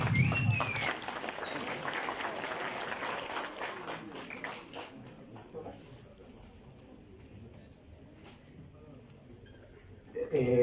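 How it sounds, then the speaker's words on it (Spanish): An audience at a university talk on energy diplomacy claps for the speaker, a moderately loud burst of applause that fades over several seconds into quieter room noise, with a voice rising at the very end. "Un fuerte aplauso, por favor."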